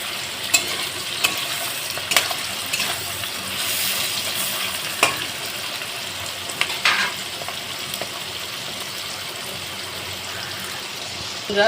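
Onions frying in a pan for mutton curry, a dense steady sizzle with occasional clicks and scrapes of a spatula, close and loud, continuing without a break.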